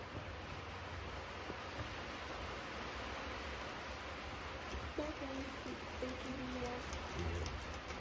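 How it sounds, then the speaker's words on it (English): Heavy rain pours steadily onto a tin roof, a constant dense hiss filling the whole stretch with no break, moderately loud and close, with no voices over it. "it's still pouring down rain here."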